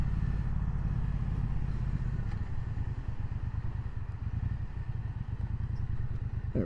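A Triumph Bonneville Bobber Black motorcycle engine rumbles steadily at close range, with a deep, even pulsing throb and a light mechanical clatter on top.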